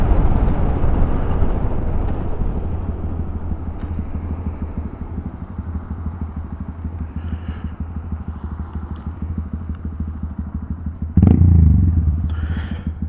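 Honda Grom 125cc motorcycle ridden on the road, a close steady engine drone with buzzing rhythm under wind rumble, rising in a louder burst near the end.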